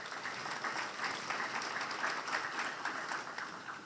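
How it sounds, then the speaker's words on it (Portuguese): Applause from an audience at the Brazilian Internet Congress, a dense, even wash of many hands clapping at a distance, steady and fairly faint throughout. "Aplausos, por favor, senhoras e senhores."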